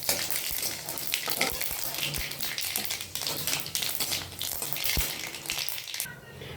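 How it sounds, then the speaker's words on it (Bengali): Dried red chillies, black five-spice and black mustard seeds crackle and sizzle in hot oil for a pineapple chutney, a steady close-up frying hiss with small pops and light stirring taps. "ফোড়নে দিয়ে দিচ্ছি শুকনো লঙ্কা, কালো 5 ফোড়ন আর কালো সর্ষে,"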